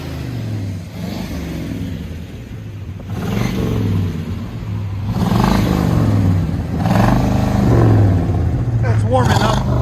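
A 1984 Chevy Caprice with a 5.0L V8 and a new exhaust revs up and settles into a loud idle. It holds steady and close throughout, while voices talk over it at times.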